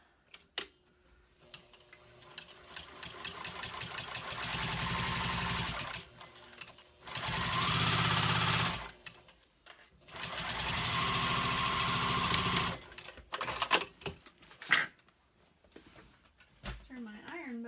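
A Juki 2000 QI sewing machine stitches in three steady humming runs separated by pauses, with quieter clicks and handling noises between and after them.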